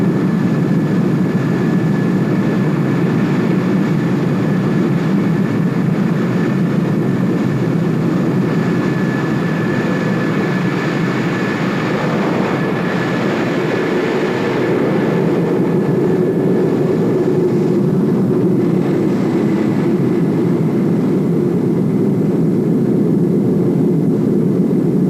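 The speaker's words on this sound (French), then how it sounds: "Les jets se mettent en piste." Blue Angels jets taxiing onto a runway, a steady loud low engine roar with a high whine that carries on throughout, shifting slightly in pitch partway through.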